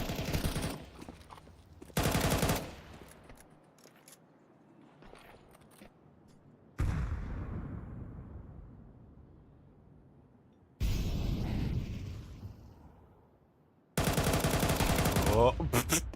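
Rapid bursts of Galil rifle fire and a grenade blast in a competitive first-person shooter match, several loud, dense volleys separated by quieter gaps with fading tails.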